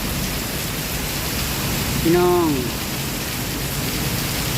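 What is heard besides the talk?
heavy rain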